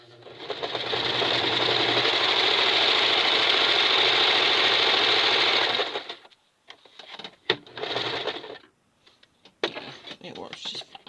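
A Kenmore 1551200 straight stitch and zig zag sewing machine runs in one steady, close burst of rapid stitching for about six seconds, then stops, leaving scattered clicks and handling noises.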